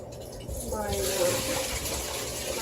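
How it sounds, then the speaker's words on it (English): Boiled eggs being shelled by hand in a bowl of cold water, with soft, continuous sloshing and splashing close by. Speech-like sounds run underneath. "So I shell them in a bowl of water, cold water"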